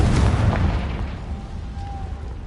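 A Confringo blasting spell explodes in the Hogwarts Legacy video game: one heavy, rumbling boom bursts out at the start, then decays into a long low roar with no voices over it.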